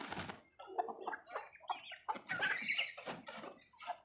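Chickens cluck and chatter steadily in a small backyard coop, several birds close by in a busy, overlapping chorus.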